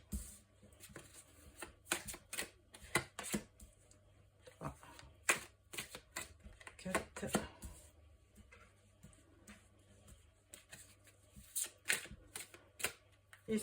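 Tarot deck being shuffled and handled for a card reading: a long stretch of quick, irregular card flicks and slaps close to the microphone, soft but continuous throughout.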